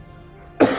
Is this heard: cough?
yes